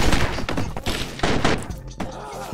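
Cartoonish explosions and thuds from the video game Stick It to the Stickman come in a rapid, loud, chaotic series of bursts and booms, mixed with other game sounds.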